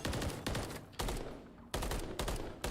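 Bursts of gunfire ring out during a Call of Duty Search and Destroy esports match between New York Subliners and Boston Breach: several sharp, loud volleys with short gaps, harsh and close, with no talk.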